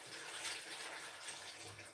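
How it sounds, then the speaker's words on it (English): Liquid poured steadily into a pot of goat and chicken meat stew, a continuous close splashing gush with no talk over it. "I'm going to pour it as much as it covers the meat"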